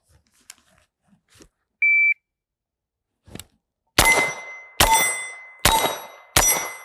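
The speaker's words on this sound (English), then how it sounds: "I've got my pro timer set on delay" Pro shot timer on delay gives one sharp electronic beep to start a steel target drill, followed by four loud, evenly spaced gunshots ringing off steel with long metallic decay.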